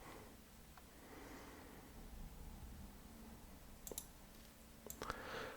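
A computer mouse clicks a few times while shapes are drawn in the Photopea image editor, with sharp, faint taps spaced irregularly against quiet room noise.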